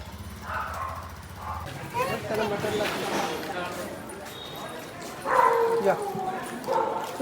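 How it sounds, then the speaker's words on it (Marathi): Dogs bark in short bursts, with some yips, as people talk over them nearby. "कुत्रे आहेत"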